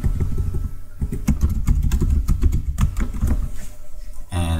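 Quick bursts of typing on a computer keyboard with irregular clicking keystrokes, close and clear, entering a short line of text into the Atom editor on Windows 10.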